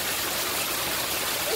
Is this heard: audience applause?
no